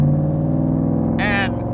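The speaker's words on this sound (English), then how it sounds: "the exhaust noise you hear, yeah, that's from a Coyote." Ford Coyote V8 exhaust on a 1965 Shelby Cobra replica by Backdraft holds a steady, deep idle rumble throughout, loud and close, while someone talks over it.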